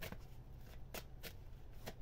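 Tarot cards being shuffled by hand close up, several quick crisp riffling bursts spaced irregularly over a soft continuous hiss, with no talking.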